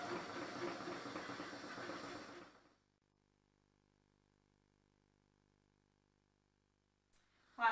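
Cepelinai dumplings boiling in a pot give a steady, fairly loud hiss of bubbling water for about two and a half seconds, then cut off to near silence, with a brief clatter at the very end.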